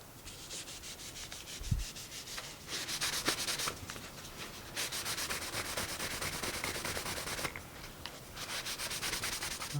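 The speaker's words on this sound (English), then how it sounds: "let's just do some final sanding and apply some wax on the outside" Steady, rasping strokes of sandpaper on a wooden box during final sanding, continuous back-and-forth scraping with a few brief pauses, close and fairly loud.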